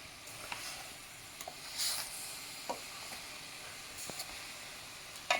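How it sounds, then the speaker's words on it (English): Blackberries and sugar heat in a pan while a spoon stirs them, giving a quiet steady sizzle broken by scattered soft scrapes and clicks. "then you just start heating that through and stirring to bring the juice out of the fruit"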